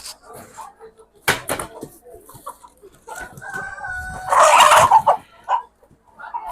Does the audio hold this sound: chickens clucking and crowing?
yes